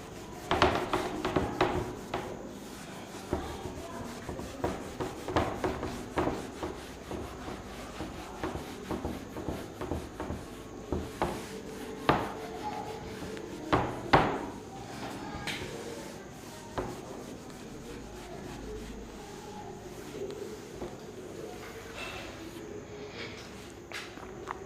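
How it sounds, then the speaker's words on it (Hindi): Writing is wiped off a classroom board during a physics lesson, a series of faint irregular rubbing strokes and light knocks, quiet and close, with no talking. "तो चलिए इसे भी रब करते हैं।"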